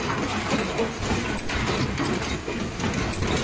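An LED bulb assembly machine on a high-speed production line keeps up a steady, dense mechanical clatter of rapid, overlapping clicks and whirs.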